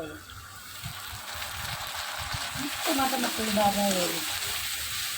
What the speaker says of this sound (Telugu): బ్రౌన్ కలర్ వచ్చే వరకు అలాగా ఏగుతూనే ఉండాలి